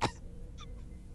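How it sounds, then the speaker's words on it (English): A single sharp, wet cough bursts out at the start, followed by a faint quiet tail. "you're not going to perform the gurgle cough?"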